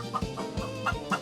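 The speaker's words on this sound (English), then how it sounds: "Rabbi Hanina was disturbed by their clucking while he was studying the Torah" Chickens in a household setting give several short, soft clucks in an uneven rhythm, close by and with nothing else around them.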